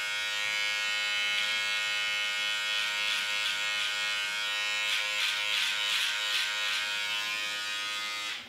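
A Panasonic i-shaper electric trimmer trims a beard with a steady, close, high-pitched buzz that holds for several seconds, its pitch shifting slightly as the head moves through the hair; no one speaks.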